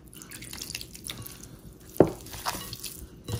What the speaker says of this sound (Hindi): थोड़ा सा पानी इसमें ऐड करते हैं